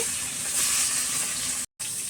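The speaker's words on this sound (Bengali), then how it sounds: "মাছের মুড়াটা ভেজে নিচ্ছি" A fish head fries in hot oil, giving a steady broadband sizzle that holds close and even for about two seconds, then drops out briefly before resuming.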